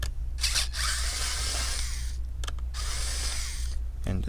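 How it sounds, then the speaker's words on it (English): A power screwdriver backs motherboard screws out of a Dell G3 laptop in two or three sustained whirring runs, close and steady, broken by short pauses and clicks. "Looks like there's screws here. So go ahead and remove that."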